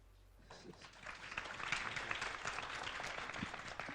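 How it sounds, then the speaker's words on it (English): Audience at a WHOIS privacy conference applauds to welcome a speaker, a soft patter of clapping that swells after a quiet start and holds steadily, fairly faint and distant. "let's welcome the first speaker, Joyce Chen, with applause"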